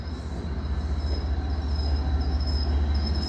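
An MBTA HSP-46 locomotive, number 1722, rolls past with a loud, steady rumble. Rhythmic wheel clatter and a thin metallic squeal ride over the heavy low drone.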